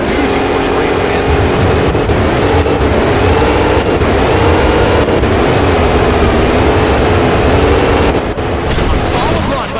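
A drag racing car engine roars in the NHRA Speed for All video game, a loud, sustained droning howl with brief dips and surges as the run goes on.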